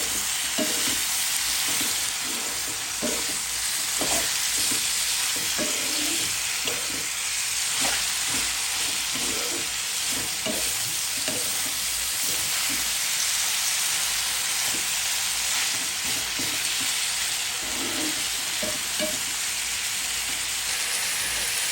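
Bitter gourd fries in hot oil with a little turmeric in a pan, giving a steady close sizzle broken by regular clicks and scrapes of stirring.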